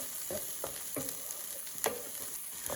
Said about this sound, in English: We'll get our garlic in. We'll just give that a stir for a moment.